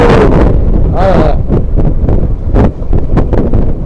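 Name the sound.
strong wind at sea on a fishing boat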